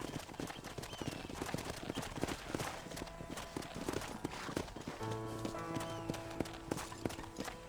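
Rapid hoofbeats clatter steadily from galloping horses over a busy Red Dead Redemption game soundscape with music, continuing without pause.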